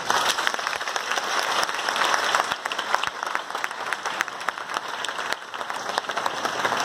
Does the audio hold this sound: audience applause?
yes